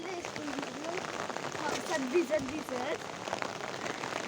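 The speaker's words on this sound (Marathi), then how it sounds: "दहा वाजलेले होते तरी पण पाऊस चालू होता" Steady rain patters on surfaces throughout, a continuous hiss under a person talking.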